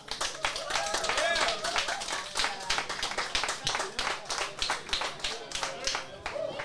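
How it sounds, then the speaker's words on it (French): A live comedy show audience claps to welcome a guest comedian onstage. The hand claps are rhythmic and close, with a few cheers and a voice mixed in. "j'aimerais ça qu'on donne une solide main d'applaudissements"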